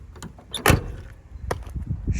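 Door of a 1986 Ford F150 pickup truck shuts with one solid close thump, followed by a lighter latch click and faint rattles nearby.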